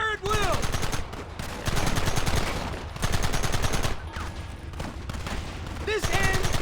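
Rapid bursts of gunfire from a volley in the video game Red Dead Redemption, with loud repeated shots in dense clusters and brief gaps, plus a few tonal whooshes over the shooting.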